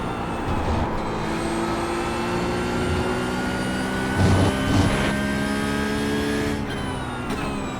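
A Porsche 911 GT3 Cup 992.1 race car lapping Snetterton in iRacing, its engine droning loud and steady with rising and falling revs through gear changes, no voices.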